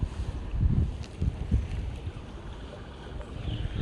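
Flowing water captured through the microphone of an LG V50 ThinQ phone: a steady broadband wash with some low-end buffeting, continuous and fairly close, with no voices.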